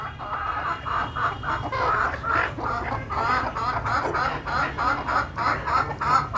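Desi chickens cluck in a rapid, rhythmic series of close, repeated calls that carry on throughout over a low background murmur.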